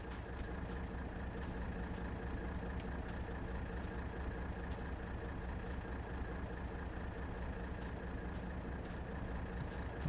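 A truck engine in a farming video game on a British map runs as a steady, loud drone with no break, and short clicking transients recur above it.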